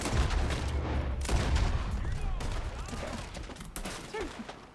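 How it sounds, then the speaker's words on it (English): Video game gunfire bursts in dense, overlapping volleys with booming impacts. A voice is heard under the shooting. "I only need to shoot this guy off of John"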